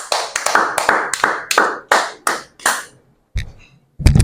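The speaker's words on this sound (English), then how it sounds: "Let's give him a round of applause, please." Applause for a child's slipper craft, given as a short burst of sharp hand claps in an uneven rhythm. Louder, closer taps and knocks follow after a brief pause.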